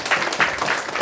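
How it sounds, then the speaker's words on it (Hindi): A seated audience at a forex trading seminar gives a short burst of applause for the teacher, brisk and fairly close, about a second long. "एक बार ताली बजा दीजिए सर के लिए।"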